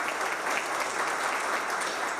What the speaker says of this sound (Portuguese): Uma salva de palmas para o Gustavo Pierini.